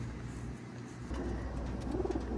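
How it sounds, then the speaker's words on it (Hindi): A teddy pigeon coos close by in Montreal, Canada, soft rolling low calls rising twice over a steady background hum. "ये जी कबूतर था जो दिखाया आपको,"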